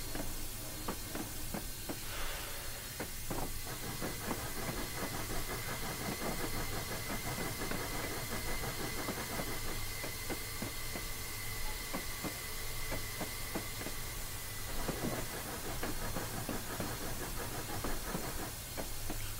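A steam locomotive in Train Simulator 2016 hisses and chuffs steadily, with a low engine rumble under a continuous broadband hiss and repeated soft bursts of steam, near and fairly loud, with no talking.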